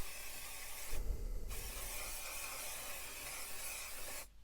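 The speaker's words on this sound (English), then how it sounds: "just going to spray this" Spray coating misted onto faux leather, a close steady aerosol hiss with a short pause early on, then a longer continuous spray that cuts off abruptly at the end.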